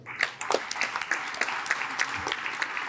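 A crowd applauds, a dense patter of many hands clapping steadily throughout at moderate volume.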